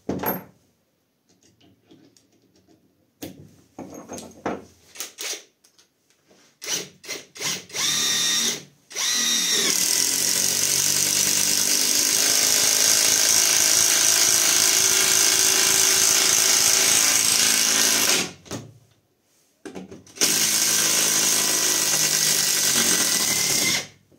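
A cordless Catpower 4226 impact driver sinks thick lag screws with 13 mm heads into knotty hardwood. Short bursts of whirring come first, then one long, loud, continuous hammering run, a brief stop, and another burst.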